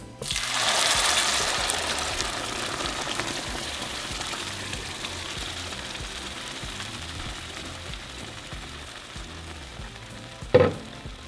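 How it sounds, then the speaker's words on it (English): Sauce poured into hot oil in a pan bursts into a loud, close sizzle that settles into a steady frying hiss, ending with a brief clank near the end. "Alright, so once our oil is hot, we're going to add our sauce."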